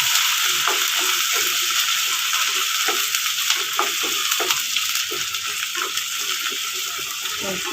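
Vegetables roasting in ghee and oil for a pea and vegetable pulao, with a steady close sizzle and frequent scraping stirs in an irregular rhythm, and no talking.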